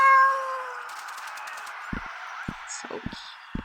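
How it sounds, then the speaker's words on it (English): A cartoon cat in the video game Sally Face lets out one short, clear meow at the start. Soft clicks and small thumps follow in a quiet room. "His little tongue sticks out when he meows."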